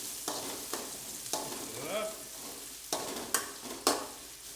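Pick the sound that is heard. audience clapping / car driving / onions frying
onions frying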